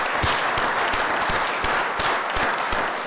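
A cheering squad applauds at a NASDAQ closing bell ceremony, with steady crowded clapping and a few sharper individual claps standing out.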